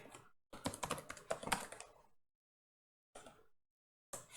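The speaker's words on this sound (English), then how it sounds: "you get to see me typing even more then" Typing on a computer keyboard while writing HTML in a code editor: bursts of quick, close key clicks separated by short silent pauses.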